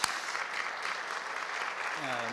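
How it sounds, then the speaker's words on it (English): Audience applause during a conference plenary session, a fairly quiet, steady patter of many hands that fills the short stretch, with a voice starting to speak near the end. "let's give ourselves a round of applause"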